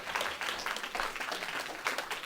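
People in the audience at a school board meeting clap together, a steady mid-distance patter of applause filling the room, with no talk over it.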